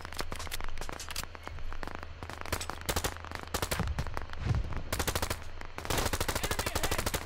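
Rapid machine-gun fire in a military shooter video game, dense bursts of shots crackling nearly nonstop with short gaps, loud and close, and a heavier continuous volley toward the end.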